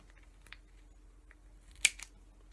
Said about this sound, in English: So I'm going to use my scissors again,